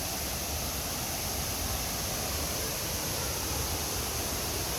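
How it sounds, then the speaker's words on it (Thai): A waterfall in a natural Thai setting, its water falling in a steady, dense roar of broadband rushing noise that holds unchanged and fairly close throughout, with no voices. "ตามไปพร้อมกับน้ำตก"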